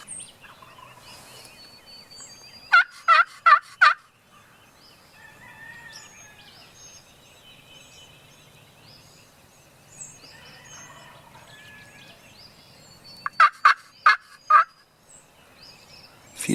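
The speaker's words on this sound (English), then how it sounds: "This turkey's going off. Let's see if he gobbles back." A wild turkey gobbles in the Tennessee spring woods, two loud rattling bursts of rapid notes separated by a long quiet stretch, with faint birdsong in the background.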